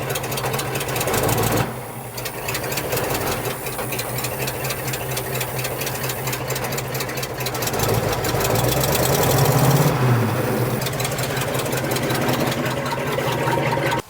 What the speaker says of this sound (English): she sat here running and idling like a champ